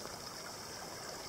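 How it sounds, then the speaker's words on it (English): A small stream rushes over rocks in a desert canyon in the Great Basin-Mojave transition, a steady, even hiss of flowing water with nothing else over it. "flowing water and everything."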